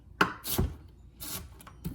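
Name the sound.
knife chopping onion on cutting board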